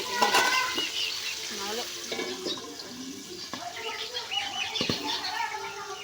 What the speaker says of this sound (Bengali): তেল কীভাবে ছিটছে আওয়াজ হয়